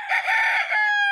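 A Kelso gamefowl rooster crows once, loud and close, a single drawn-out call that rises and ends in a sustained, slightly strained tone, with no other sound around it.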